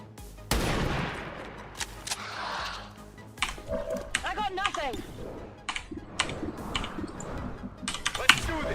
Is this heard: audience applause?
no